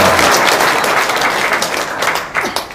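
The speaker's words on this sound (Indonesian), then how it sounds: "Tepuk tangan dong." A crowd applauds steadily, with dense clapping that stays loud throughout and fades slightly toward the end.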